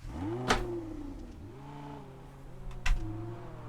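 Car engine in Test Drive Unlimited Solar Crown, revving and dropping pitch as it downshifts twice, with sharp clunks at each gear change, fairly quiet and alone.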